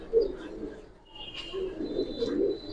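Fancy pigeons, two males and two females, coo in low, rolling murmurs close by, with softer chirps now and then and faint background noise.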